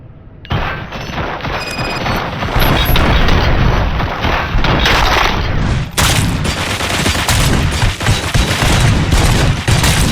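Loud, dense gunfire in the video game Robocop: Rogue City, with rapid automatic bursts and heavy booming shots layered over about ten seconds of continuous combat noise.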